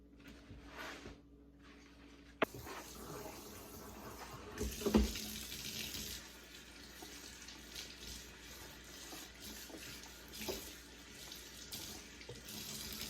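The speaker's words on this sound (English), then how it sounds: "I can't stand grit in my greens, so I wash every leaf." Tap water runs steadily into a sink while mustard and turnip greens are washed by hand, with a soft splash and clatter partway through.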